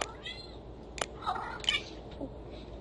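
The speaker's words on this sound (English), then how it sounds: "Cat!" A cat meows briefly a couple of times, fairly faint, among short clicks and other scattered sounds.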